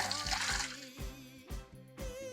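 Water spouts from a hole in a filled container during a fluids physics demonstration, giving several bursts of splashing and trickling water in a fairly quiet room.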